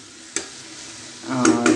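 Vegetables fry in a pan for a lemon chicken soup, a steady sizzle broken by a sharp scrape and two louder stirring strokes near the end, close and without speech.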